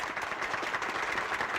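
A dense, steady wash of applause from an audience clapping for the parish priest at a 1976 Canadian folk evening in Baie-Saint-Paul, evenly loud throughout a short burst.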